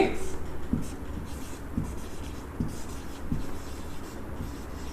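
A teacher writes on a board during a maths lesson, producing soft scratchy strokes and taps that recur roughly every second, faint and close.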